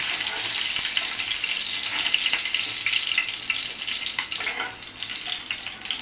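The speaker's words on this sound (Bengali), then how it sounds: "আমার মাছটা একদম ভাজা হয়ে গেছে, আমি তেমন একটু বেশি ভাজি নেই, হালকা করে ভেজে নেব" Koi fish fry in oil with a continuous, fairly soft crackling sizzle, accompanied by light clinks and stirring noises.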